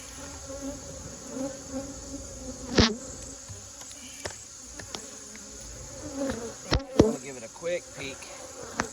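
Honeybees buzz steadily around an open hive during a September inspection, a close, continuous insect drone with a few sharp knocks and handling clicks, while a voice speaks briefly.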